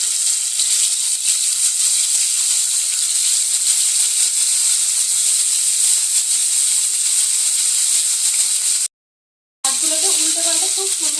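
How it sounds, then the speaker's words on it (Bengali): Pieces of katla fish hit hot oil in a kadai and set off a loud, steady, close hiss of sizzling that runs almost unbroken, cuts out briefly near the end and then returns with some faint background sounds. "তেলটা গরম হয়ে গেছে, এবার আমি মাছগুলোকে দিয়ে দেবো তেলের মধ্যে।"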